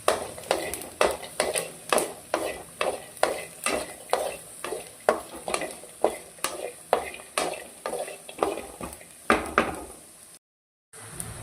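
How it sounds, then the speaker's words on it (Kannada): Chopped onion and garlic dry-roasting in a pan without oil, stirred in a steady rhythm of about fifteen scraping strokes over a soft sizzle, close and moderately loud, ending in a brief silence. "ಈರುಳ್ಳಿ ಮತ್ತು ಬೆಳ್ಳುಳ್ಳಿನ ಆಯಿಲ್ ಹಾಕಲೇ ಚೆನ್ನಾಗಿ ಈ ರೀತಿ ಬಾಡಿಸ್ಕೊಳ್ತಾ ಇದ್ದೀವಿ"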